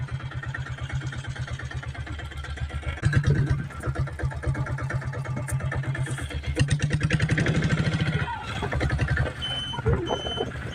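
A 2000 model Taurus diesel motorcycle engine runs steadily close by, a loud even thumping beat at idle that swells slightly a few times, with no talk over it.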